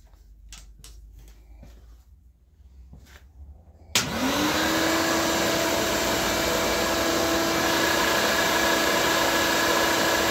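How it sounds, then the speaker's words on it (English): A shop vacuum switches on for dust collection during woodworking on a white oak axe handle, starting with a sharp jolt and then holding a loud, steady whine. A few light knocks come before it. "I'm going to throw on my vacuum for some dust collection here."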